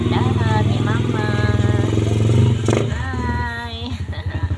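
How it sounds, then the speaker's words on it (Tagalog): A motorcycle passes in front of a shop, its engine a steady, loud buzzing drone that swells and fades while a person talks over it. "May dadaan na motor."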